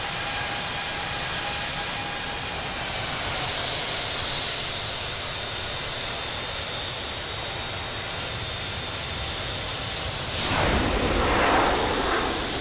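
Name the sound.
Boeing 757 jet taking off in Infinite Flight video game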